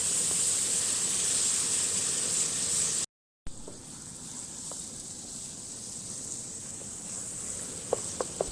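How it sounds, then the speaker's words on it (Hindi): Turmeric and dry ground coriander frying in a pan for a village-style aloo gobi curry give a soft, steady sizzling hiss. It cuts out briefly, then resumes with a few small pops and clicks near the end. "मसाले हमने अच्छी तरह भून लिए।"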